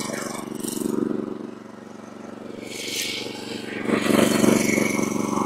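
A hydraulic log splitter's small engine runs steadily while firewood is split, a droning rattly motor with swelling bursts of hiss and strain as the machine works, fairly close.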